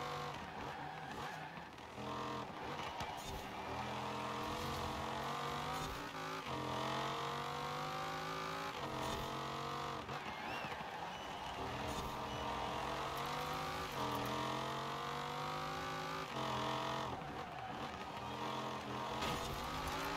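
Ford GT 05 race car in Forza Horizon 4, engine revving hard and continuously through repeated gear changes, with rising and falling pitch sweeps and occasional tire squeal, loud and close throughout.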